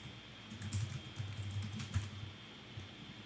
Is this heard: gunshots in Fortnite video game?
no